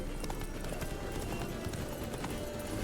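A horse gallops in The Witcher 3: Blood and Wine, with steady, close clip-clop hoofbeats over a continuous bed of game ambience.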